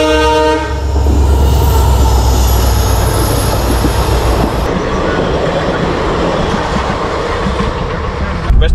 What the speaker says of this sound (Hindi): ट्रेन क्रॉसिंग चल रहा है इधर